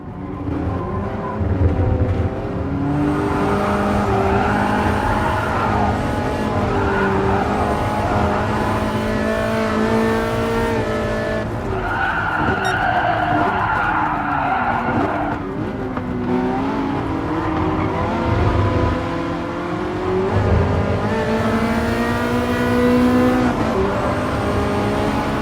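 A Ferrari F40 races a three-lap event around Monza in Gran Turismo Sport, its engine roaring loud and constant, pitch climbing and dropping through gear changes for the whole stretch.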